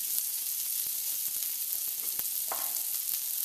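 Onions frying in bacon grease in a pan over low heat give a steady, close hiss with a few light clicks and taps from stirring, and no voices are heard.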